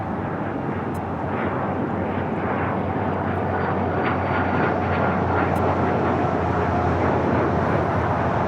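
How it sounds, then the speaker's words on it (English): A Cessna Citation CJ2 Plus business jet takes off at LAX with a loud, steady, broadband engine roar that stays strong and close throughout, with no break. "This is Air Sprint 510 taking off to Omaha on the Cessna Citation CJ2 Plus."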